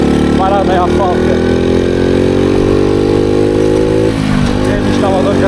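Motorcycle engine pulling hard on a ride, a loud sustained drone with the pitch rising steadily under acceleration, then dropping and climbing again; wind buffeting runs throughout.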